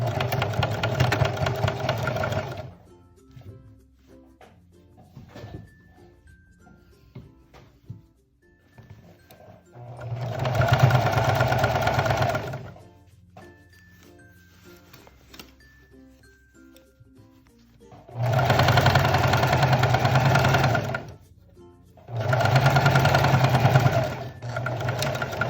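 A sewing machine stitches a mini dress in several separate bursts of fast, close mechanical whirring and clatter, with quiet pauses and soft handling noises between runs and no talk.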